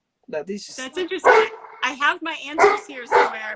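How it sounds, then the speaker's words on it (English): A pet dog barks and yips repeatedly at close range in short bursts, mixed in with a person talking over it. "I'm sorry about my dog. She wants me to play."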